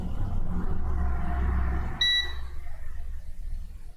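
A multimeter gives a single short beep on an iPhone 7 logic board, signalling a short to ground in the boost circuit, heard over a low background hum.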